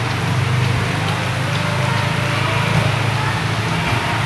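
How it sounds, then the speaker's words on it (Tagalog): Heavy rain pounds down outside a gymnasium in Poblacion, San Jose, Negros Oriental, a loud, unbroken roar with a low rumbling undertone throughout. "Murag mas kusog pa ang ulan no."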